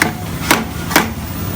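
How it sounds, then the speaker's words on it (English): Rubber hammer knocking a door threshold into place, two sharp, evenly spaced taps over a quiet background. "He might need a rubber hammer just to knock it in place"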